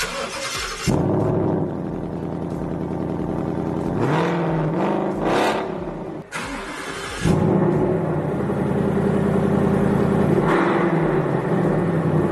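A deep, throaty 5.0 V8 engine of a 2018 Ford Mustang GT Convertible revs repeatedly, roaring up and settling back into a rumbling idle between bursts, loud and close.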